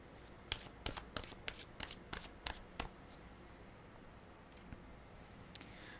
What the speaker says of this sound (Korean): 엔젤 타로 카드로 2장 뽑아보겠습니다